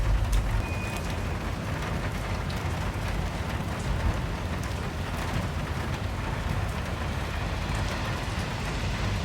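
Heavy rain drums steadily on a car during a California flood alert, a dense, unbroken wash of noise with road rumble underneath and no voices.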